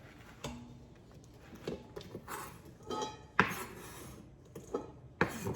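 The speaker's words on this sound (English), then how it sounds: "We're gonna put this in our bowl." Mushrooms being tipped into a bowl while preparing a mushroom meatloaf, heard as scattered clinks and knocks of dishes and utensils with soft rustling between them, fairly quiet and close.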